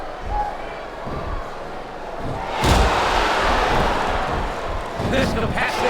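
Arena crowd in WWE SmackDown vs Raw 2007 swelling to a loud, sustained roar midway, with thuds and slams of ring action and commentary voices talking over it.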